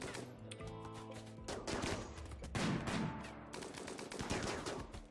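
Gunfire in the video game RimWorld during a raid by sappers, with repeated bursts of shots and sharp cracks over a few seconds, moderately loud with no talk.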